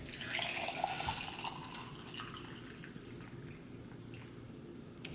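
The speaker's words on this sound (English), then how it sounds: "I'm just gonna go ahead and pour in the water" Hot water poured over a ginger green tea bag in a cup, a steady close trickling pour that is strongest at the start and thins to a soft running flow, with no talking.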